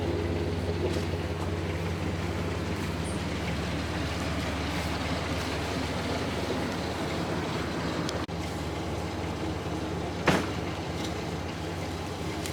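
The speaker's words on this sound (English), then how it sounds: "This is a bigger wheelbarrow, that's all. With 4 wheels and a motor." A motorized four-wheel wheelbarrow hauling bags of concrete at a jungle building site runs its engine at a steady, continuous drone close by, with a brief sharp knock partway through.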